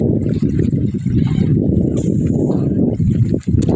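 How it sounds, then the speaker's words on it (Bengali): A boat on a wide tidal river among mangrove-like trees comes closer, its broadband water wash and lapping steady and fairly loud throughout, with a brief dip near the end and no voices. "এই নৌকাটা কিন্তু চলে আসছে, নৌকাটা কাছাকাছি চলে আসছে"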